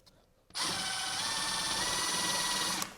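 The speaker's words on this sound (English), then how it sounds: "And then go ahead and screw that down." A power drill whirs loudly and steadily for about two seconds, driving a screw to fasten a four-square electrical box onto drywall, starting and stopping abruptly.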